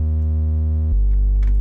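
Speed garage bass patch built in the Serum synth with its low-pass filter switched on, a loud, steady sustained low tone with a harmonic buzz that drops to a deeper pitch partway through.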